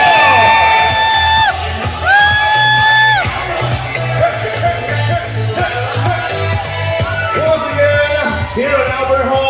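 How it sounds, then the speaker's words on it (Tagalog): Wedding reception guests at Albert Hall whoop, shout and cheer for the newly married couple, a loud, dense crowd roar that continues throughout with a steady low hum from the sound system underneath. "Mas malakas na"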